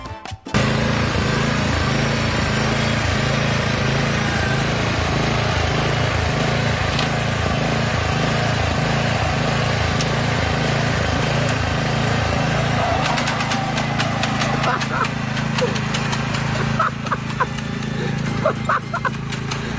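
A lawn mower engine runs steadily and loudly close by with a rapid chugging rhythm, joined later by rattling and knocking clatter.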